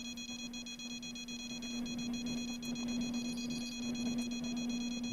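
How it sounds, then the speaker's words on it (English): Electronic beeping from a video game where the player catches piranhas, a steady high tone with a constant hum beneath it, holding evenly with no voices over it. "Beeping."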